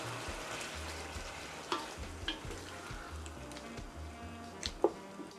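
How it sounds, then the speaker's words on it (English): Steady sizzling of shrimp frying in a hot pan, with occasional pops and soft scraping of a utensil stirring, fairly quiet and close. "Keep stirring the shrimp while it is frying so it cooks evenly."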